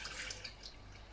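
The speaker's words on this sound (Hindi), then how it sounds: "अभी मैं सबसे पहले पैन में पानी डाल रही हूँ" Water pours into a cooking pan, a soft, steady splashing trickle close by that gradually eases, with no voices over it.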